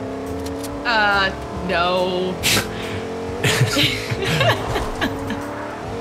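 Car engine revving and driving in the Fortnite video game, with rising engine tones and brief skids, mixed under players talking and laughing.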